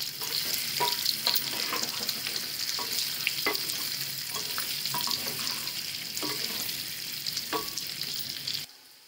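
Potatoes frying in oil in a pan for dum aloo, a soft continuous sizzle broken by scattered spatula taps and light stirring scrapes, fairly quiet and close, cutting off just before the end.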